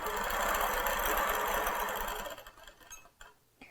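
A Q'nique 15R sewing machine runs steadily in cruise mode with its needle idling up and down, a close continuous mechanical whir for about two seconds that then cuts out, leaving faint clicks.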